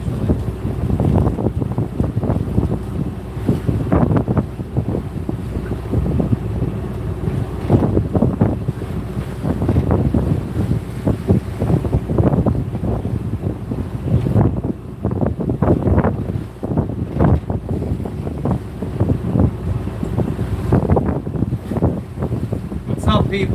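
A sailboat out in Fiji, with strong wind buffeting the microphone, waves slapping and rushing against the hull in irregular bursts, and voices talking now and then.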